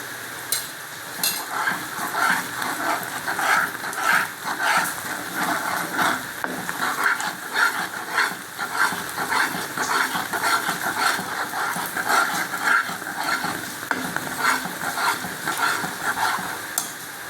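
Gram flour batter for Mysore pak is stirred with ghee in a hot pan, giving a continuous bubbling sizzle with scraping stir strokes repeating all the way through at moderate, even loudness.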